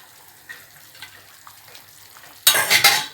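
Masala gravy for a Palakkad sardine fish curry simmering in a pot: quiet, faint bubbling ticks at first, then a sudden loud burst of rapid, close bubbling and sizzling in the last second.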